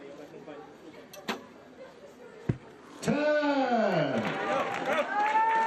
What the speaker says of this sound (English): The crowd reacting there to a 10 from Jean-Charles Valadon.